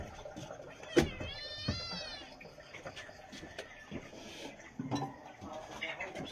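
Cats meow repeatedly, one drawn-out wavering cry standing out, amid clinking dishes and light background chatter.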